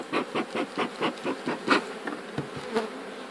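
Honeybees at an apiary during a spring hive inspection, buzzing in close, pulsing bursts as individual bees pass near, about a dozen swells in quick rhythm.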